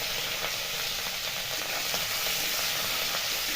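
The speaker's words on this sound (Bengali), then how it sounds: "একটু ভালো করে নাড়াচাড়া করে নিয়ে এই তেল দিয়ে দেবো একটু ধনে পাতা কুচি" Ginger and green chillies fry in hot oil while being stirred, a steady close sizzle with scraping stirs running throughout, no voices.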